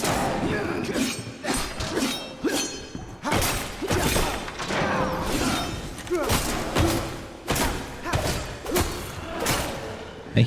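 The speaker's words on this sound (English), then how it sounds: "I hear gunfire." Gunfire and crashing impacts in a video game, a dense run of repeated loud bursts and thuds across the whole stretch, with faint speech mixed in.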